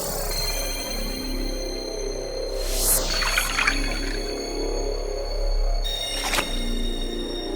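Clothes being hand-washed with soap and water: steady wet sloshing and rubbing, broken by two sharper splashes of water, with no voices.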